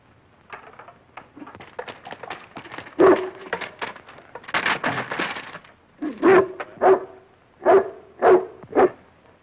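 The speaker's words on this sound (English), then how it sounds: "It's a dog." A dog inside a parked car yips, whimpers and gives short barks in a series of close bursts, the last few coming in a quick rhythmic run.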